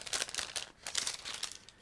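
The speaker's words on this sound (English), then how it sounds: "So I'm opening the first plastic bag, which is dedicated to the machine gun Maxim." A plastic bag from an ICM 1/35 plastic model kit is opened, giving close, bright crinkling and rustling in quick irregular bursts with no voices.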